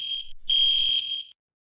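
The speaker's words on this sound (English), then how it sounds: "Yep, the fire alarm strobes seem to still be working with the new pole stations just as much as the old one" A fire alarm sounds a loud, steady electronic tone in two close bursts separated by a short gap, then stops abruptly.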